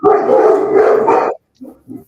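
A big-voiced dog barks once in a long, loud, close bark, then gives two short softer woofs after a brief pause.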